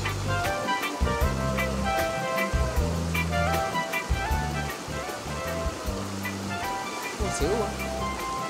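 Houniema waterfall near Touho, New Caledonia, heard from the top of the falls as a steady, close rushing roar of water that runs the whole time, with people talking over it.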